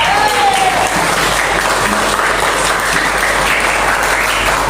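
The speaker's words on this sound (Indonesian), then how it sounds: "Najwa dan Karina beri aplaus yang semangat." A classroom of children claps steadily and loudly for several seconds during an Islamic religious education lesson, the dense applause continuous from start to finish.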